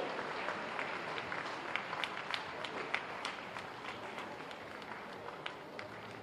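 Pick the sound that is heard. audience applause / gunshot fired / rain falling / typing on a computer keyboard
audience applause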